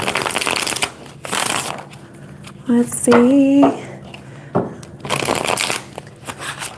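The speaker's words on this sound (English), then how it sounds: "Let me shuffle this." Tarot cards being shuffled during a sign-by-sign reading, a steady papery riffling that runs for several seconds, pausing while a person briefly speaks, then resuming close up.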